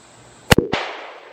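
A Taurus Model 513 Raging Judge Magnum revolver fires a single loud, sharp shot outdoors at clay targets, followed by a short fading echo.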